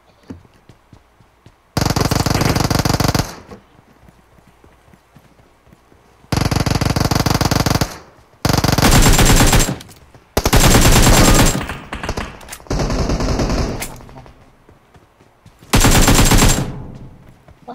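Bursts of rapid automatic gunfire in a shooter video game, several loud sustained volleys of a second or two each separated by short pauses, with quiet game ambience in between.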